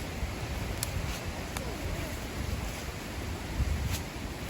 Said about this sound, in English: The waterfalls meet down here.